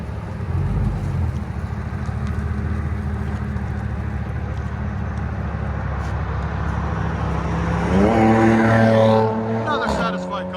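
A 2004 Chevy Silverado SS with a 6.0L V8 and Carven R-Series exhaust rumbles loudly and steadily at close range, rising into a brief rev near the end.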